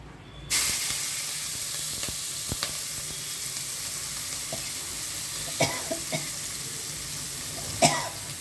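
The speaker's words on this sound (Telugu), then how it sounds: "ఇరగకుండా తర్వాత ఉల్లిపాయలు వేస్తున్నానండి" Finely sliced onions go into a hot pan for a tomato egg curry, raising a steady close sizzle with occasional clicks and scrapes of a spoon and a short cough partway through.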